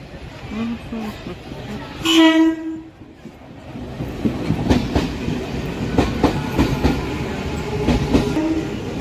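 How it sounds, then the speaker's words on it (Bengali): A train at Krishnanagar station sounds one loud horn blast, then rolls on with a rising rumble and steady clatter of wheels over rail joints. "তো ফাইনালি এখন ট্রেনে উঠছি।"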